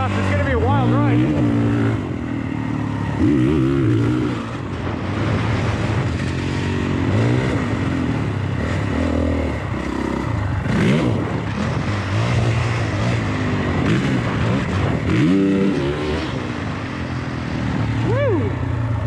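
A new motorcycle lapping a rough dirt track, its engine droning loud and steady with rising and falling revs as the bike corners and accelerates, mixed with wind noise.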